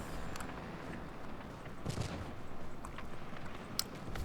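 Aircraft guns in the World of Warplanes game fire in a steady, rapid stream of faint shots, with an occasional sharper crack standing out above the quiet rattle.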